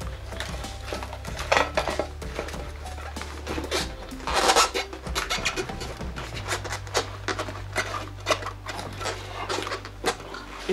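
A tyre is worked onto a scooter wheel by hand, with zip ties used for the job, producing repeated close rubbing, squeaking and knocking noises in irregular bursts with no talk.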